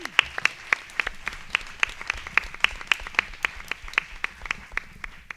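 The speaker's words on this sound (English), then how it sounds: "Let's give them a round of applause." Audience applause at a Newark community event about queer club spaces, heard as a run of sharp, evenly spaced claps, fairly close and steady, with no talk over it.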